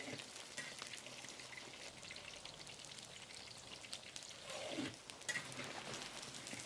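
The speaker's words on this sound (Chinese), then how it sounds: "油烧热，再复炸一下啊，复炸一下外表更脆。" Crispy pork strips being refried in hot oil fill the clip with a continuous fine crackle and spatter, a steady rain-like sizzle with scattered louder pops, alone and without talk.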